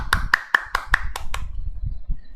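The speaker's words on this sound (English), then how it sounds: "So give a round of applause, guys." A small round of applause at a Gavel club meeting, about seven sharp claps in a quick even rhythm that stop after a second and a half, leaving only quiet room noise.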